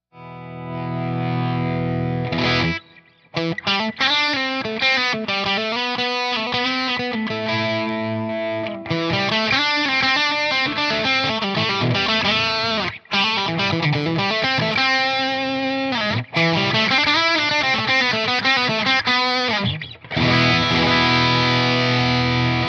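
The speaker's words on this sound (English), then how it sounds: "I'll play just the dirty sound. I'll add the gain button and then the mid clean boost." Distorted electric guitar through a Line 6 Helix playing chords and riffs, saturation growing as gain and a mid clean boost are added across passages separated by brief pauses; no talking.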